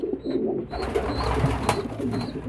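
Pigeons kept in a loft coo softly in low, repeated rolling calls close by, with faint background noise and no talking.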